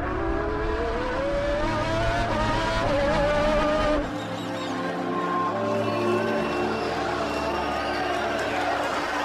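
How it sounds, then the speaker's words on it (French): Formula 1 race car at the Brazilian Grand Prix, stuck in sixth gear, its engine droning loud and close with rising harmonic whine and rumble, the tone dropping partway through as the pitch shifts, with crowd or track noise beneath. "Impossible de courir une Formule 1 avec une voiture coincée sur la sixième vitesse."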